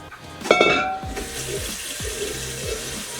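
Tap water runs into a pot to cook a single serving of gluten-free, dairy-free pasta in a hot home kitchen, starting with a sharp clank and then a steady close gush with small knocks, no talking.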